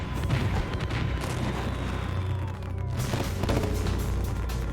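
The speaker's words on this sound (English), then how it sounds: "the firefighters are forced to stand back as thousands of fireworks explode and spray the surrounding areas" Thousands of fireworks explode in a runaway chain reaction at a fire, with firefighters held back and residents evacuated: a loud, dense, unbroken barrage of overlapping bangs and crackles, with no voices.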